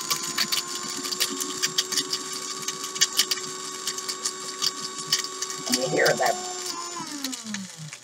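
An electric grinder hums with a steady motor whine while big pieces rattle inside it, then the motor winds down toward the end.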